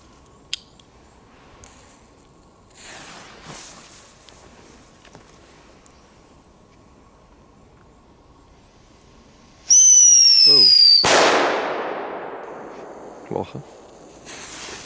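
A firework going off outdoors in Poland: scattered quiet pops and thuds, then a loud rising whistle followed at once by a sharp, booming bang that slowly fades, with a couple of small cracks afterward.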